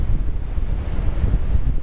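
Ocean surf and strong wind at Seaside Heights beach, a loud close rumble with heavy wind buffeting the microphone throughout, no voices.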